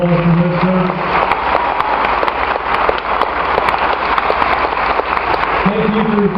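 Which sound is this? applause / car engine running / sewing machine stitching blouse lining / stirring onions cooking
applause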